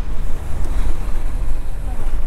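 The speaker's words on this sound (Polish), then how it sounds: "Ale zobaczcie, jakie fale są. Widzicie te fale?" Large ocean waves breaking on a beach at Coorong National Park, a steady loud low roar of surf mixed with heavy wind buffeting the microphone, continuous throughout.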